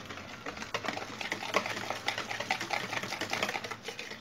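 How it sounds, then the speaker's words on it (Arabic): Spoon stirring a runny semolina and chocolate basbousa batter in a bowl, a quick rhythmic clicking and scraping, close and soft with even strokes throughout. "غادي نحرك مزيان"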